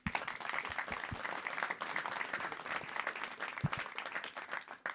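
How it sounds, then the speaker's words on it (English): A conference audience applauds its panelists, and the dense clapping of many hands holds for about five seconds with a few louder individual claps near the front. "please give a round of applause to my panelists."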